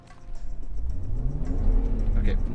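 BMW 528i with a manual gearbox, traction control off, revving hard in snow as its wheels spin; a rising, whirring engine note grows louder over a steady low rumble, with people talking over it.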